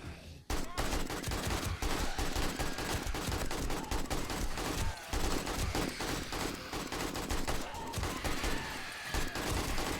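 AK rifle fire in the survival game 7 Days to Die, a dense, continuous burst of rapid gunshots rattling close and loud for the whole stretch.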